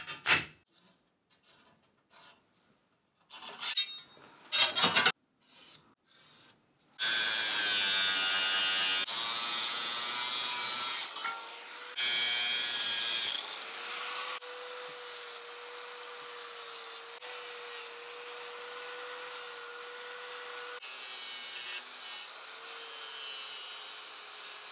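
Steel stock being cut for a homemade holder for a 20-litre jerrycan, a few short scraping strokes giving way to a long, loud, continuous grinding cut that whines steadily to the end, with no talking.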